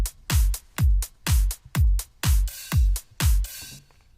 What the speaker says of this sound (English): So for good variation you can add open hi-hats every now and then.